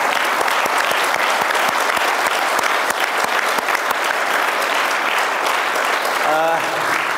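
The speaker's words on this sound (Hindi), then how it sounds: "तालियां बजा के, तालियां बजाइए ना।" An audience at a yoga and meditation camp gives sustained, loud applause, thick steady clapping throughout, with a brief voice surfacing near the end.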